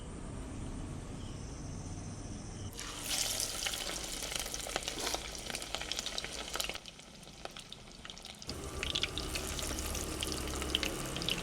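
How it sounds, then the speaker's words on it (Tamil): Prawn vadas crackle and bubble in hot oil as they fry, Sri Lankan style, with a steady sizzle that swells louder after the first few seconds as more batter goes in. "இப்போ எண்ணெயும் பார்த்தீங்கன்னா சூடாகிட்டு இனி போட்டு பொரிச்சு எடுப்பேன்"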